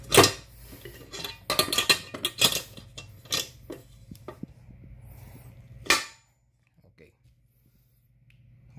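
KitchenAid 5-quart bowl-lift stand mixer bowl pushed onto its pins and locked into place, making a run of sharp metallic clicks and clunks close by, ending in one firm knock before quiet.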